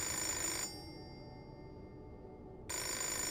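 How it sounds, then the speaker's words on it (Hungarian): Telephone ringing in the video game Fahrenheit: Indigo Prophecy, a bright electronic ring that sounds briefly, drops out for about two seconds, then starts again, with a low background hum underneath. "I just need to answer the telephone."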